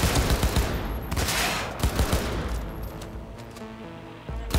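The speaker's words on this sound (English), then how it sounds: "You're a little hard to hear over the gunfire." Sustained gunfire in the video game Cyberpunk 2077, with dense overlapping automatic bursts and sharp shots that rumble on for several seconds, loud and continuous.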